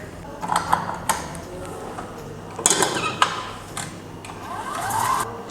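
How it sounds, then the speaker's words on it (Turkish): Egg yolks and sugar are whisked together in a pot or bowl for tiramisu. Close clattering strokes against the bowl give way to a steadier whirring mix, with no speech over it. "aynı kazanda bir de sarıları çırpacağım"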